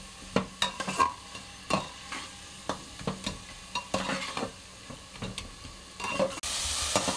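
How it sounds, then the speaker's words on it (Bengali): Spices for a Bengali mutton curry are stir-fried in a hot pan: a steady sizzle runs beneath repeated sharp scrapes and clacks of the spoon against the pan, with the frying growing louder and denser at the end. "এইবার আমি সমস্ত মশলাগুলো সুন্দর করে কষে নেব।"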